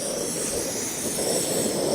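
Strong wind blowing straight into a camp stove and a one-quart bush pot, a loud continuous roar of rushing air and flame with no gaps, close to the microphone.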